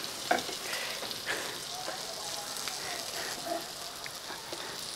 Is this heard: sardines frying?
yes